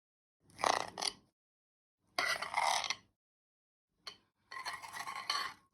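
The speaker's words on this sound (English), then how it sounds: "Now I'm going to put some frosting there" American buttercream made from sugar, butter and vanilla is spread over a Swiss roll cake, giving four close scraping, smearing strokes separated by short pauses, with no talking.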